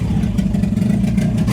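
A water-cooled boat engine on a speedboat converted from an old dumpster revs at low power out on the English Channel, a steady, loud, close mechanical drone.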